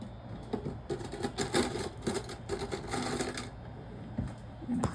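A sewing machine stitches bias-cut fabric edges on a Flying Geese quilt block in quick rattling runs, stopping and starting briefly, close and fairly loud with a faint voice underneath.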